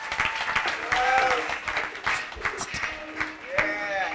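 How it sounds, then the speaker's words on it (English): Audience applause for a speaker at a mindX talk on the power of choice, steady clapping across the room with cheering and voices mixed in, moderately loud. "please give him a round of applause"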